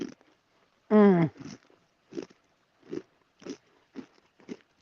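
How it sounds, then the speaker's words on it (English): A person chews with close, crisp bites: one loud crunch followed by a series of quieter, evenly spaced chewing sounds with pauses between them. "Can you hear me chewing?"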